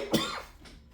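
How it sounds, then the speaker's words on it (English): One short, harsh cough close by from someone getting over a cold, then a brief quiet. "mind my cough here."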